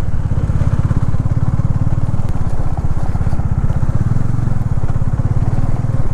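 Motorcycle engine thrums steadily and close on a rough off-road stretch, a continuous loud low pulsing rumble with faint rattle, ridden toward the India–Nepal border from Gorakhpur; no talk.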